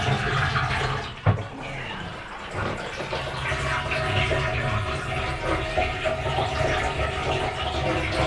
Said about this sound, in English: So that's the boatyard hose.